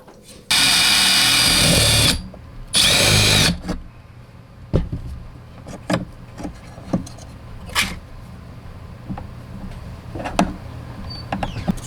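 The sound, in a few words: power drill drilling pilot hole in plastic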